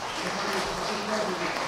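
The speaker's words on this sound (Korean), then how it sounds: "SC인 이도수님께 박수 부탁드립니다" An audience at a Won Buddhist temple gathering gives a steady, fairly soft round of applause that continues unbroken throughout.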